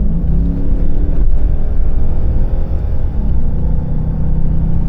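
Jaguar XK8 accelerating in sport mode, a loud steady engine rumble and drone heard from inside the car, building smoothly with no talk.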